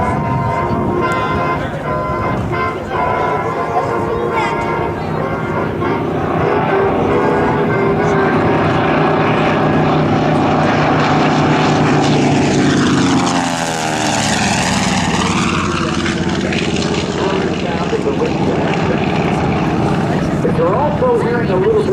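Grumman TBM Avenger propeller warbird flying a demonstration at an Air National Guard open house airshow, a loud rasping radial engine and prop roar building and sweeping past with a rising then falling pitch, a voice talking over it.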